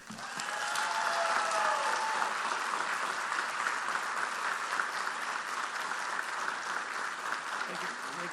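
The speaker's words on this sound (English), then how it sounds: "Let's give him a great round of applause, Mr. Jim Marietta." An audience breaks into a full round of applause welcoming a guest speaker at a presentation, dense sustained clapping that swells quickly and holds steady, filling the room.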